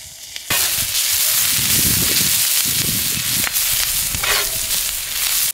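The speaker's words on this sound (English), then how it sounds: "We're gonna put down some onions and grill these." Onions sizzle loudly on a griddle in rendered beef fat, a steady close-up hiss and crackle that starts abruptly and continues throughout with small stirring scrapes, no talk.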